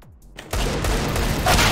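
Gunfire in CS:GO, a quiet start followed by a sudden loud blast that rolls into sustained, dense shooting noise for over a second.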